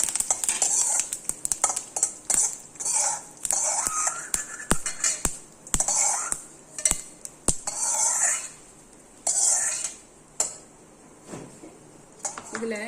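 Sesame seeds and curry leaves are tossed into a pan while a spoon clinks and scrapes against the metal in irregular, close bursts, separated by short quiet gaps.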